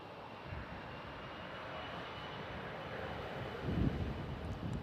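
Airliner engine roar at San Francisco International Airport as a Virgin Atlantic jet taxis close by, a steady broad rumble with wind buffeting that swells slightly toward the end.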